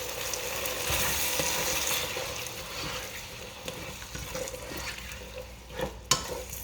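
Sofrito frying in a pot for beef stew hisses and sizzles steadily at moderate volume, with faint stirring scrapes and a short clatter near the end.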